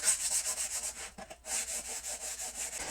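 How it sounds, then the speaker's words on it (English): Sandpaper rubs back and forth across a saw blade in quick, even strokes with a dry rasping hiss, close and fairly quiet, with a brief pause mid-way before the steady scrubbing resumes. "I'm going to use that same sandpaper to go over the saw itself"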